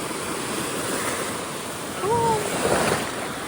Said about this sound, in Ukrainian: поки що я бачу хвилі і вітер